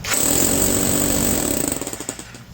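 A Vevor SDS-Max 10 J rotary hammer hammers rapidly into a block of wood, a loud steady percussive drone that sputters into separate blows as it winds down near the end.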